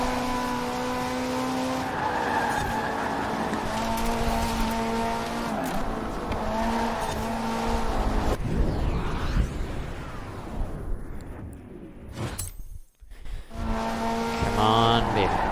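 V8 sports cars racing through streets in Forza Horizon 4, engines revving and shifting with tires squealing and skidding, loud and busy throughout, with a brief abrupt drop near the end.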